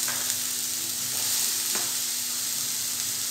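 Green chillies, tomato, garlic and softened onion fry in a pan for stuffed round gourd, giving a steady broadband sizzle with a few faint stirring clicks throughout, no talking.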